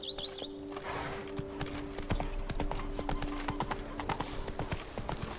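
Roach, Geralt's horse in The Witcher 3: Wild Hunt, gallops in a quick, steady clip-clop of hooves with a brief whinny at the start over faint game ambience.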